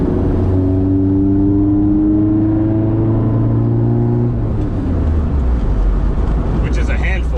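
A 1976 Austin Mini Clubman GT Estate fitted with a swapped-in Honda D16Y1 VTEC engine drives along, its steady engine drone and cabin rumble rising and shifting as it revs, heard from inside with talk over it.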